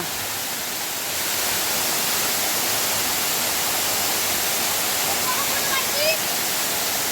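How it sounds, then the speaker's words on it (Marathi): A tall waterfall on a forest stream at Ghonsari Sapatwadi roars as a steady, loud, broadband rush of falling water, continuous and close throughout, with no other sounds standing out. "हा बघा मित्रांनो धबधबा"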